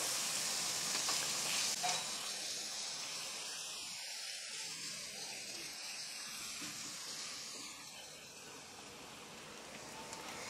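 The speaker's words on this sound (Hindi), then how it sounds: "और प्याज को हम सुनहरी होने तक फ्राई करेंगे" Onions sizzle and fry golden in a pan for chicken gravy with a steady hiss, quiet and close, with occasional stirring scrapes.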